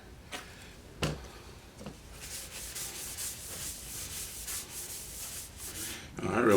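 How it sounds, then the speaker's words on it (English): Cloth rubbing Mahoney's walnut oil finish onto a handmade wooden beer stein, a soft steady scrubbing that runs for several seconds after a couple of brief knocks, close by with no talking. "today I'm using Mahoney's walnut oil finish to start with. I'm just going to apply some of that."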